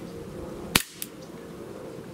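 One sharp, close crack from a full-metal Sig Sauer P229 6mm airsoft blowback pistol, followed by a quick fainter mechanical clack, over quiet room tone.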